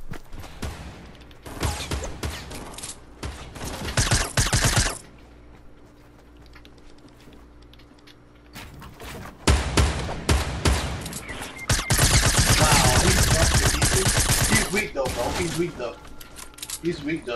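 Rapid gunfire in a Fortnite match, with dense loud volleys in bursts separated by a quieter lull, the shots rattling close by with clinking and scattering debris between them.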